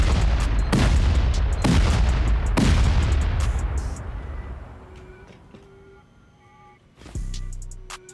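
Turrets fire in heavy, rapid booming bursts during a raid on a barricaded clan compound. The blasts come loud and close, then trail off into faint clicks and hums, with one more sharp boom near the end.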